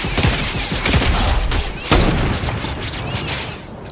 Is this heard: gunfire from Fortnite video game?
yes